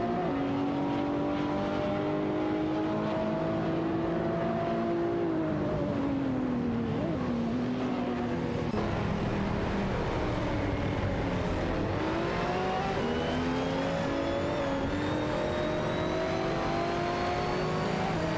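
Race cars in a video game, including a Porsche 911 RSR, roaring continuously with engine pitch rising and falling through gear changes and corners, loud and sustained for nearly twenty seconds.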